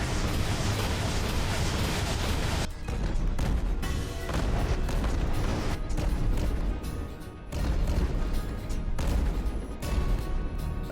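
Heavy gunfire and booming impacts in a custom-mech battle video game crash continuously at close range, with dense bursts and explosive thuds running throughout.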